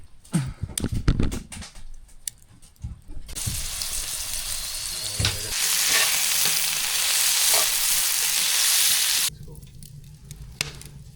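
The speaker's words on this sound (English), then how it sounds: "Food's on the grill. Just waiting for those potatoes and those onions to get all finished up." Potatoes, onions and steak fry on a camping grill beside a mountain lake, giving a loud, steady sizzle for several seconds before it drops back to quieter crackling and clatter.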